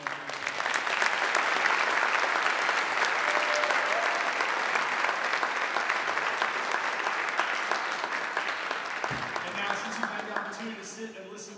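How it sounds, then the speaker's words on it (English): A sustained round of applause from the audience at a McKendree Christmas concert of readings and carols fills the hall, steady and dense throughout before thinning out near the end as voices emerge. "Can we give a round of applause for everyone?"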